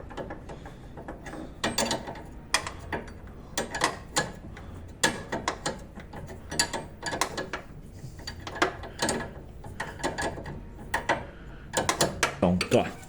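Ratchet wrench tightening a bolt on the right-side suspension of a 2014 Ford New Fiesta, with repeated bursts of rapid clicking in rhythmic strokes, close and fairly loud, continuing throughout.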